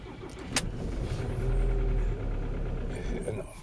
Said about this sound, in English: let's crank it up. Let's hear how bad it sounds.